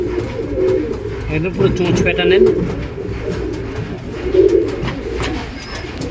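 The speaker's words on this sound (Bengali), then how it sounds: "দেখুন পায়রাটা দেখুন" Pigeons in a breeding loft coo repeatedly in low, throaty murmurs close by, with a person talking over the birds throughout.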